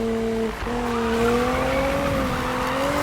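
A Nissan GT-R in Need for Speed (2016) holds a steady, loud engine drone that dips once at a gear change and then climbs slowly, with a rough, noisy road-and-tire layer underneath and no talking.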